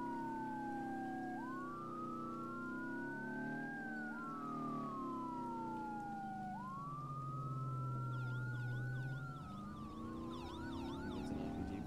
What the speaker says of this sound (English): Do not put that siren on. I hate that siren. Leave the siren off.